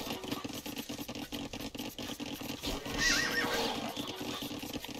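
A scout cavalry horse dies in the Age of Empires 2 video game, giving a short whinny midway through a soft, busy bed of game sounds with light hoof-like patter.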